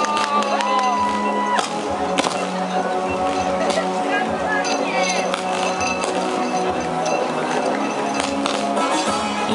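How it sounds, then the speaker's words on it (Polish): Crowd at the finish of a night Midsummer running race applauding and cheering arriving runners, steady clapping and whoops under an announcer talking over a loudspeaker throughout. "Wielkie brawa dla kolejnej Agnieszki, 723 numer."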